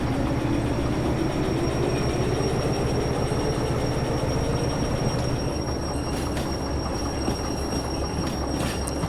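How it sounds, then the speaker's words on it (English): A train being pushed during shunting in the rail simulator Derail Valley, with a steady rolling rumble of wagons, rail clatter and faint wheel squeal running continuously, close and loud throughout. "And now we can push the train."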